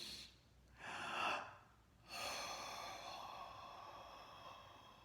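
Deep breaths taken with a hand pressed under the rib cage: two slow, soft inhalations and exhalations heard close up in a quiet room.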